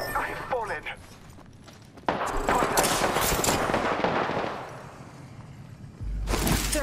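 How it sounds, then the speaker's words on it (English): Gunfire in the battle royale game Apex Legends, loud bursts of automatic fire with a sharp onset partway through, dense and close, mixed with other game effects and speech. "They're shooting at me."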